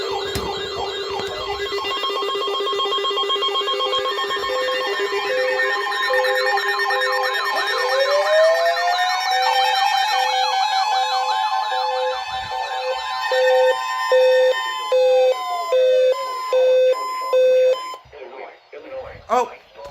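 Emergency Alert System alert tone blares loudly as a steady two-tone electronic warble, overlapped at first by a sweeping siren-like wail, then ending in a run of evenly spaced data-burst beeps.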